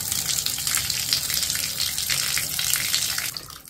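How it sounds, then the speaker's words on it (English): Water pours steadily into a bathtub and runs down the drain, a continuous close hissing gush with no voices. "it's not going to restrict the flow of water down the drain"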